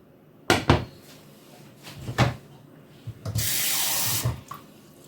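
A little water is poured onto beef tripe while cooking sautéed cabbage with tripe, giving a sustained splashing rush for about a second, preceded by a few louder knocks and clatters of kitchen utensils nearby.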